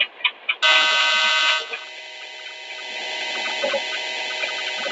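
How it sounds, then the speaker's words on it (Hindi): A locomotive horn sounds at a level crossing in an Indian train simulator, opening with a few short toots followed by one long, loud sustained blast that settles into a steady tone. "तो हॉर्न बजा रहे हैं भाई"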